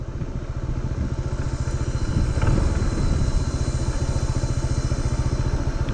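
A Honda ADV 160 scooter-style motorcycle engine runs with a steady rapid low pulsing thrum, close and continuous while riding up a steep high road, swelling slightly midway.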